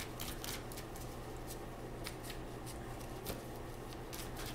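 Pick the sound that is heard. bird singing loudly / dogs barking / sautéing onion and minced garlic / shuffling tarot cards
shuffling tarot cards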